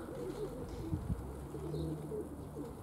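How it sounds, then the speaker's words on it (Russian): Domestic pigeons cooing softly after being let out for the first flights of the season in April, low burbling coos repeating over a steady outdoor background. "Начал выпускать своих голубей сегодняшнего дня."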